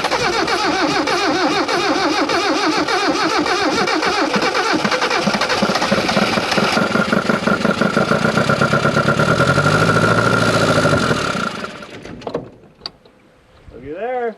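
Old Mitsubishi-made Dodge Ram 50, abandoned for over a decade, cranking and catching, its engine running loud and rough with a pulsing beat before cutting out abruptly, followed by short bursts and a voice near the end.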